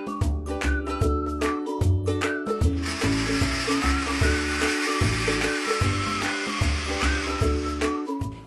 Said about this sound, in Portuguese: E agora o Rodrigo vai finalizar pra gente, no liquidificador, a geleia de pimenta.